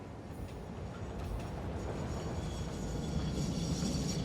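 A train in the factory-building game Satisfactory rumbles along in a steady, continuous low roar with faint rattling on top, and no voices are heard.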